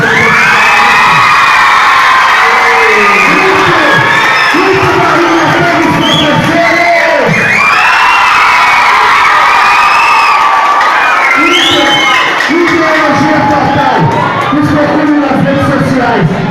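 A crowd at a sarau poetry gathering in a market cheers and shouts loudly and continuously, with excited children's voices rising and falling over the steady roar.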